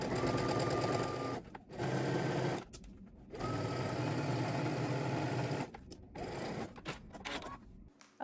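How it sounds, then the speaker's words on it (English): A sewing machine stitches a sleeve seam on a McCall's M8605 garment in bursts of rapid, steady whirring. Brief pauses break the stitching, and no one speaks. "we're gonna stitch starting at the bottom, working our way up"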